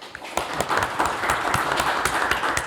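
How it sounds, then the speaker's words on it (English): Audience applause from a room full of people, continuous clapping with a few sharper claps standing out. "A quick round of applause for the amazing volunteers that helped make this thing happen."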